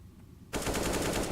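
Rifle fire erupts abruptly in a competitive Counter-Strike-style school tournament match with an AK, a rapid automatic burst that begins after a quiet half-second and continues loud and sustained to the end.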